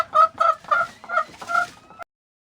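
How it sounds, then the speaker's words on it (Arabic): A chicken clucking close and alone, five quick pulsing clucks in a steady rhythm that stop abruptly, followed by silence. "chicken."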